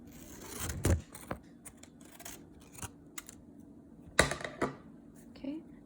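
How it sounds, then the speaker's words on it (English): Scissors snip through a paper circle to cut it in half, a few short, quiet crisp cuts spaced irregularly over a few seconds, close by in a quiet room. "So let me try to cut it in half."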